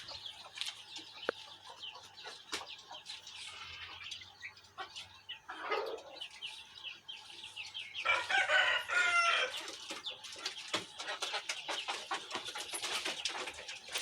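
Several chickens, including newly added hens, cluck and squawk close by in a busy coop, with occasional bird calls and a rooster-like crow rising in the middle.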